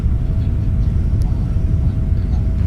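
A heavy cargo jet sits on the runway at takeoff thrust, its engines a loud, steady low roar with a faint whine running through it.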